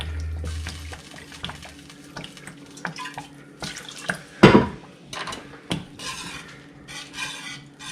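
Half a cup of Jack Daniels whiskey is poured into a pan simmering on an electric stove, with a steady liquid pour, soft splashing, and a few metallic clinks of a utensil against the pan.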